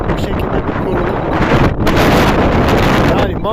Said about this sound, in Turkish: baya bir rüzgarlı hava